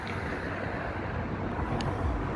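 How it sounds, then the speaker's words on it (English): Road traffic rumbles past on a bridge at night, a steady, loud wash of tyre and engine noise. "Excuse the traffic going by, but we are on a bridge."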